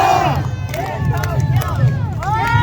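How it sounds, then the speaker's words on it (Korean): Rally crowd in Daegu cheering and applauding during a presidential campaign event, a dense, loud roar of many voices with shouts rising throughout, steady and close with no pauses. "대구 시민 여러분 다시 한번 뜨거운 박수 부탁드리겠습니다."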